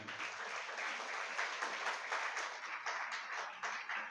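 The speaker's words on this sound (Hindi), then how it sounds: "तालियां होनी चाहिए पहले तो आप लोगों के लिए" An audience at an inter-school speech competition in Karachi applauds, a steady, even wash of many hands clapping that holds throughout at a moderate distance.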